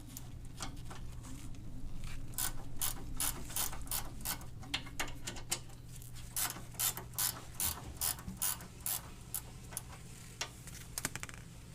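A ratchet wrench clicks in quick, steady bursts as two 14mm sway bar bracket bolts come off an EVO 8/9 front lower control arm, close and fairly quiet over a low steady hum.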